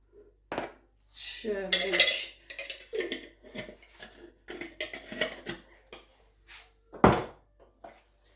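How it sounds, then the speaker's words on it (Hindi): Dry spices such as crushed coriander, cumin and chaat masala being stirred into a chicken shami kebab mixture in a bowl, giving a series of close clinks and scrapes of a utensil against the dish in irregular bursts. "खुश्क मसाले सारे ऐड करके मिक्स कर लिए हैं अच्छे से।"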